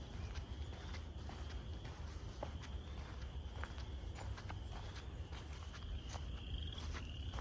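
Spring peeper frogs calling from a distance in a bog woodland, thin high peeps repeating irregularly over a constant low background noise, faint and far off.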